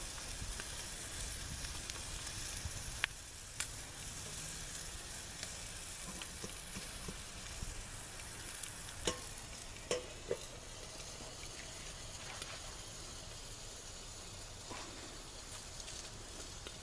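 Sausage sizzles steadily in a pan over a Sterno stove, a constant hissing fry with occasional sharper pops and clicks, close and unbroken, with no voices.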